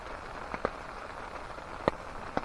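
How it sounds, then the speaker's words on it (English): Rain falls on a camping tent after a snowstorm, a soft, steady patter with a few sharper, louder drops striking the fabric now and then, quiet and close. "Now I can listen to that rain and go to sleep."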